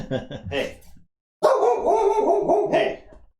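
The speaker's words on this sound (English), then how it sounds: "Don't bark in here." A dog barks indoors at close range in loud, rapid bursts: a short volley, a brief gap, then a longer run of barking. Voices can be heard in the room.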